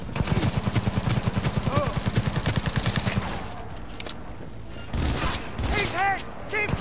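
Rapid automatic gunfire in the video game Cyberpunk 2077, a dense burst of shots for about three seconds, then scattered single shots and clatter with voices calling out over the action.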